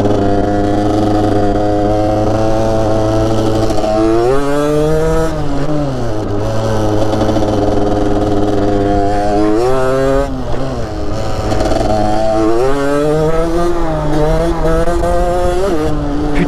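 A motorcycle engine revs hard and repeatedly during a wheelie, the pitch rising and falling in several surges, loud and close with no talk over it.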